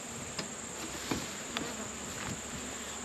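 Bees from a wild hive built inside a tree hum in a steady, continuous insect drone, with a few brief closer buzzes as individual bees fly near.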